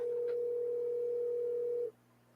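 Telephone ringback tone heard while placing a call: one steady, loud electronic tone lasting about two seconds, then cutting off into quiet line hiss, with no talking.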